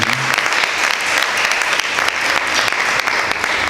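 A church congregation applauds together, a dense, steady wash of many hands clapping that holds at an even level throughout, with no voices rising above it.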